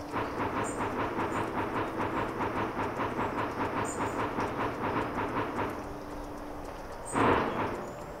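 Train running in the video game Bounty Train, a steady rhythmic clickety-clack of wheels over rail joints with a low rumble, then a short burst of louder noise near the end.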